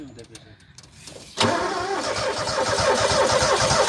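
A lawn mower tractor engine cranks and catches after some clicking and handling noises, then runs loud and rough close by, with voices talking over it.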